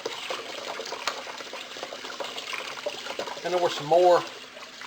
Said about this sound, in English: Get that water stirred up.